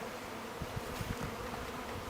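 Honey bees buzzing inside a package of bees as a beginner beekeeper handles it, a steady close hum with a few louder rising swells, with no voices.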